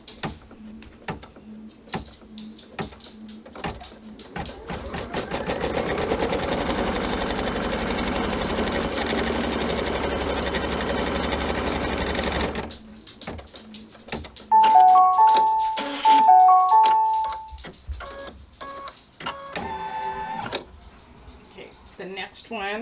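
A sewing machine runs continuously stitching quilt fabric for a pinwheel block pillow, a dense whirring rattle for several seconds, followed by shorter bursts of stitching, beeps and clicks, with a person talking between runs.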